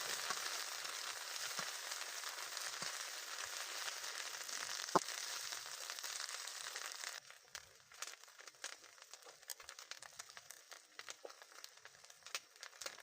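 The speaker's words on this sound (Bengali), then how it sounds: "এটাকে আমি মিনিট চারেক আরও ভেজে নেব" Taro stolons fry in oil in a pan for a fish-roe curry, giving a dense, steady sizzling hiss that later drops to a quieter bed of scattered crackles and pops, close up with no voices.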